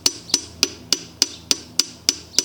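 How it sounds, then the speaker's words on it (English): A hammer taps a piston rod to drive a piston out of a Chevy 5.3 engine block: nine sharp metallic knocks land at a steady, even pace, close and distinct against quiet surroundings. "just gently tap the top of this hammer like so"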